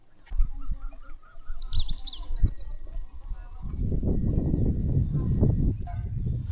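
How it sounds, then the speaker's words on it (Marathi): Morning birdsong from a house terrace in Ahilyanagar: bright chirps and trills over a rising wash of broad outdoor rumble and background noise, with faint distant honk-like calls. "सकाळचंही किलबिल असा आवाज"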